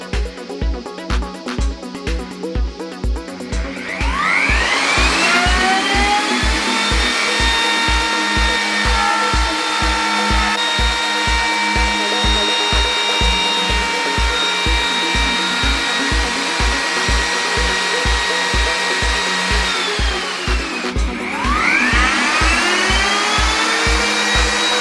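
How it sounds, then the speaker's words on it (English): A jigsaw cuts a sink hole into a wooden campervan worktop, a loud, steady motor whine over a rapid buzzing stroke that runs for most of the clip, pausing briefly before starting again. "I'm just going to jigsaw this out"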